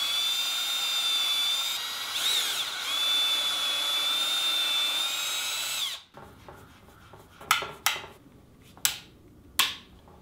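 A power drill pre-drills into a cherry bed rail, a steady whining run for about six seconds, then a few sharp short bursts and taps close by.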